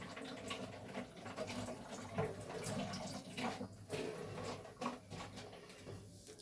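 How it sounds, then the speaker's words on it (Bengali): A small amount of water pours into a cooking pot for chhanar payesh, a soft, continuous gurgling splash heard fairly close but at low volume with gentle rises and dips. "আমি জলটা দিয়ে দিলাম"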